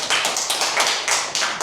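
Clapping in a church youth group Sunday service to congratulate a member, a steady burst of close, fast hand claps from a small group with no talking over it.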